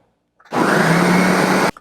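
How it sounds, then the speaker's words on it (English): A blender whirs loudly for just over a second, blending watermelon, a steady high-pitched motor roar that starts abruptly and cuts off cleanly. "place the lid onto my blender, turn it on, and we're going to give it a whirl."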